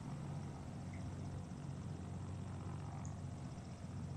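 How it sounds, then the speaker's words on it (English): The engine of a Velocity XL aircraft in a flight simulator game drones steadily and fairly quietly, a continuous propeller-engine hum with a low rumble and no speech over it. "The engine sounds good."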